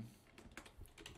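Quiet keystrokes on a computer keyboard while C++ code is entered, a short irregular run of soft clicks and taps heard close up with no one speaking.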